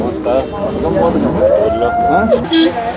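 A Khillar cow moos nearby at the Sangola cattle market, a drawn-out lowing call that rises and falls, with background murmuring and a brief higher whistle-like sound near the end.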